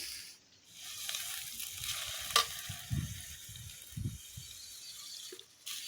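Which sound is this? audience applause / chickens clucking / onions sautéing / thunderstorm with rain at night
onions sautéing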